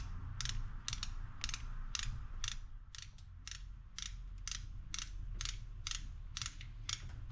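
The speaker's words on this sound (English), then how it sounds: "I'm going to take a tap and try and run a tap into that piece of plastic" A ratcheting tap handle turns a tap into the broken plastic neck of a Jeep Renegade coolant reservoir, giving steady, evenly spaced clicks about twice a second, close up, over a low background hum.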